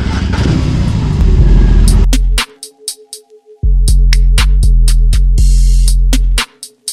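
A BMW R18 motorcycle ridden on the road near a small town, loud engine roar at first, then a short lull followed by rhythmic revving pulses with sharp clicks between them, close and strong.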